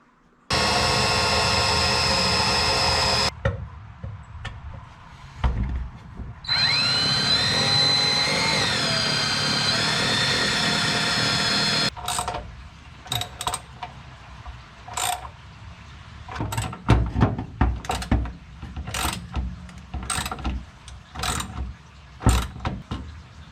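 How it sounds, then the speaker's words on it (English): Self-tapping screws are power-driven into the subframe of a 1969 Valiant. Two long, steady whirring runs of the driver are followed by scattered clicks and knocks of handling, all close by. "So just going to use some self-tapping screws with some red Loctite and mount it directly to the subframe."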